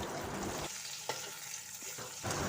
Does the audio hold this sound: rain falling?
no